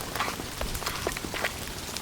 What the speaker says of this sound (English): Proper wet now. Jeez. Proper rain.